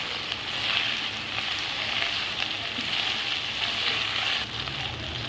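Minced meat frying with onions in a pan gives a loud, continuous hiss and crackle that stays even and close throughout, with faint stirring underneath.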